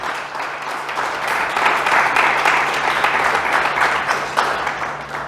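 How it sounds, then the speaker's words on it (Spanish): A church congregation breaks into loud, steady applause as an offering of praise, with dense clapping holding strong across the whole stretch and a low hum underneath. "lo menos que podemos hacer es honrarlo con una ofrenda de palmas"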